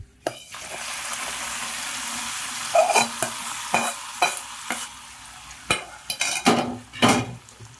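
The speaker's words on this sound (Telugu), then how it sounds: "తాలింపు పెట్టేసుకుందాం, స్టవ్ ఆఫ్ చేసేసుకుందాం" Hot oil tempering for pappu chaaru, a South Indian lentil soup, sizzles steadily in a pan, broken by sharp bursts of crackling and clinks of a stirring spoon against the vessel, close and with no talk.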